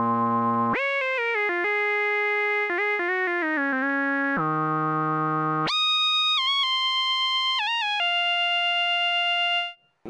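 A Waldorf Rocket synthesizer plays a bright lead line of sustained, stepping notes that jump between low and high registers with sliding pitch bends, clean and loud, fading out at the end.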